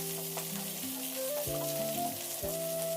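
Garlic, a small piece of tamarind and a sprig of curry leaf sautéing in a pan, an even, moderate sizzle running throughout with faint tonal hum in the background.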